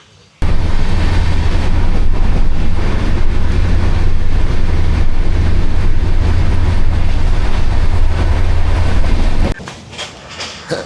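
A moving passenger train rolls loudly and steadily past trees on a Kolkata to Dooars journey, its continuous rumble and rattle constant from near the start and then dropping away abruptly near the end.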